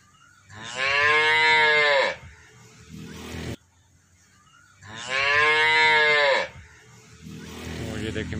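A Friesian cow in Pakistan gives two long, loud moos close by during milking, with a quiet pause between them and faint background noise after.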